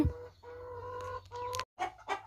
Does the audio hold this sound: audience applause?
no